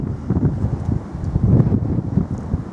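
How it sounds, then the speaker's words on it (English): Gusty wind buffets the microphone outdoors at Lancaster Castle, a low rumbling roar that swells and eases over a few seconds with no talking. "It's very windy around this bit, isn't it?"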